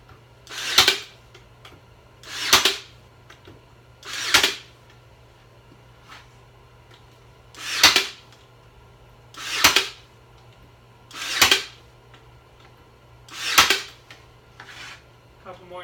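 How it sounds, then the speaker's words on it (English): A nail gun drives nails into pallet wood for a shelf, firing eight sharp, evenly spaced shots about two seconds apart over a steady low hum, with no talking. "I love this nail gun. It's really, really good to me. But always make sure you sink them right."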